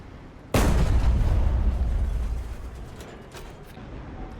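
A flying Jagdtiger fires a shell at a battleship in a video game with a single sudden, heavy boom, and the rumble rolls on for about two seconds before fading into quieter background noise.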